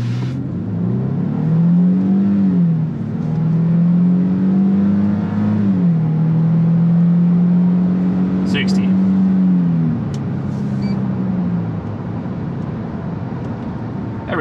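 A 2022 Nissan Frontier Pro-4X pickup accelerates hard from a standstill toward 60 mph, its engine droning loudly from inside the cab as the pitch climbs and drops with each gear change over about twelve seconds.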